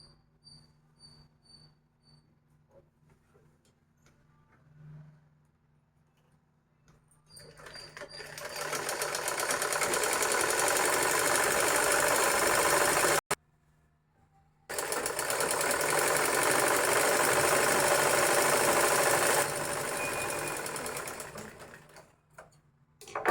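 Sewing machine stitching the joint seams of a pair of pants, running loud and steady for several seconds, pausing briefly, then running again, after a quiet start with faint handling sounds.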